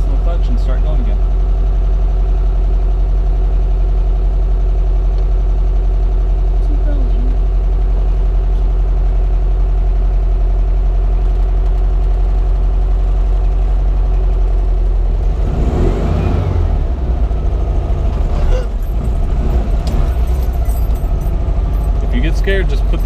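A 1968 VW Bug air-cooled engine running steadily close by, then revving and straining as the car pulls away again, with people talking in the car throughout.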